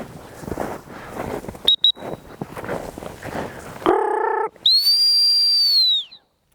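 Rustling outdoor noise during upland bird dog training with a brief chirp, then two sharp, steady dog training whistle blasts, the second long and piercing, close and loud.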